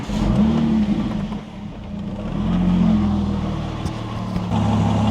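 Porsche 996 911 Turbo engine running close by, rising and falling as it revs in a couple of swells over a rumbling idle.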